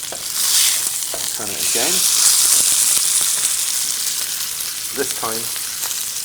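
Steak sears in a hot pan with a loud, continuous sizzle and crackle, while someone talks briefly over it.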